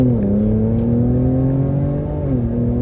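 A Ford Raptor pickup truck accelerates hard on snow, its engine holding a loud, close, steady droning roar that climbs slightly in pitch as it pulls, then dips briefly as a gear shifts.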